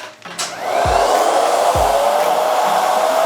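A hair dryer blows heat onto the roots of dry hair during a flicky blow-dry, switching on with a whoosh and then holding a loud, steady roar close by.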